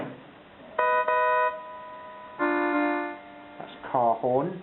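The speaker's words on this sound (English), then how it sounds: "That's car horn" Vintage Casio SA-1 keyboard playing its synthesized car horn sound effect: a few short and longer electronic buzzy tones with steady pitch, followed by a brief pitch-bending tone, fairly clear and close.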